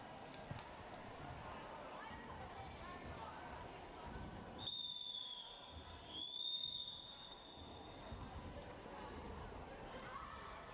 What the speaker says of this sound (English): So that rolling whistle can only mean one thing.